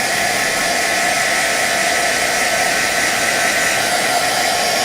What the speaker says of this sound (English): I'm going to hit this with my heat tool one more time.